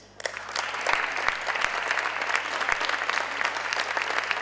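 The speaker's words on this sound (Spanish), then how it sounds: "Démosles, por favor, la bienvenida con este aplauso" An architecture conference audience in Argentina applauds to welcome young emerging architects to the stage. Brisk, steady clapping begins almost immediately and holds for several seconds in a reverberant hall.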